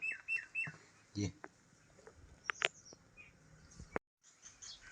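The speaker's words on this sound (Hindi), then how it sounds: "तो देखो चिड़िया अपनी भाषा में बातचीत कर रही है।" Small birds chirp in a village home garden in the morning, giving scattered short tweets and calls, some close and bright, others softer, with a brief spoken word among them.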